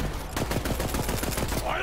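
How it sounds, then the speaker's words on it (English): An automatic pistol fires in Borderlands 3, a rapid, steady stream of close, punchy shots lasting under two seconds, with game sounds layered underneath. "this is an automatic pistol"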